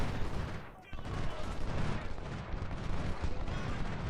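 Dense musket volleys and booming artillery fire from units engaged in the Civil War strategy game Ultimate General: Civil War, a steady crackling roar of massed gunfire with a brief lull near the start.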